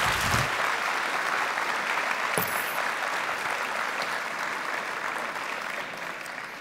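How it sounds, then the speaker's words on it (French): Sustained audience applause at a 2025 New Year's greetings ceremony in the town of Le Portel, a dense, even clatter of many clapping hands that fades slightly toward the end, with no one speaking. "sous vos applaudissements, c'est une prémisse de la soirée"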